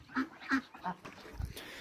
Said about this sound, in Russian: вот эта утка с хохолком просто шикарная